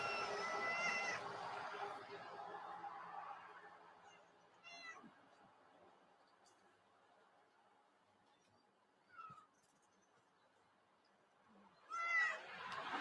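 Cats at a cat shelter give three short, separate meows spread over several seconds, against low background noise with faint voices early on.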